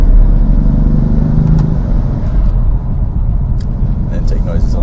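Loud, constant engine drone and exhaust rumble heard from inside the cabin of a modified BMW M3 during drifting, with a few sharp pops near the end and someone talking over it.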